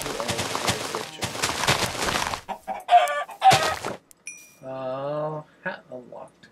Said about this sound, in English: You are a silly chicken.